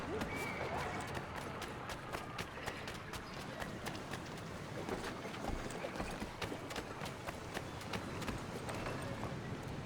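Horses' hooves clip-clopping in Assassin's Creed 3 Remastered, a busy run of hoofbeats over a dense, noisy game-world bed with no clear talk.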